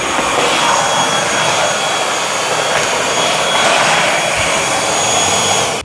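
A Bissell Featherweight stick vacuum cleaner running steadily on carpet, a loud, constant high-pitched motor whine with airy suction hiss that holds without pause, then cuts off abruptly at the end.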